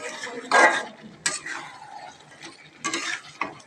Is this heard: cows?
no